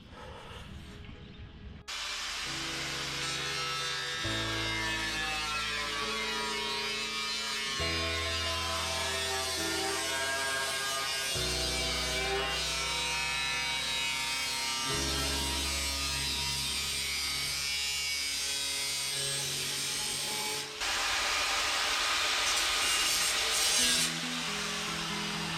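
Rusted metal is being cut out of the front guard of a Toyota Land Cruiser BJ40, a long, steady grinding and rasping with a few shifts in pitch. The sound carries on without pause and no one speaks.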